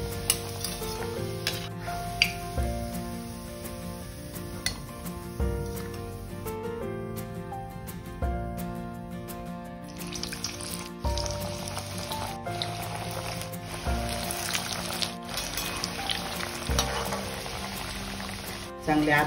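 Kothimbir vadi, coriander fritters, frying in hot oil with a steady close sizzle, plus occasional stirring and the clink of a utensil against the pan.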